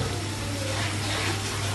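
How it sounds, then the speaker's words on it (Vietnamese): Running water splashes steadily as freshly soaked eggplant is rinsed clean, a continuous near hiss and gurgle of tap water without talk, while preparing stir-fried frog with eggplant. "Mình vớt ra rửa sạch."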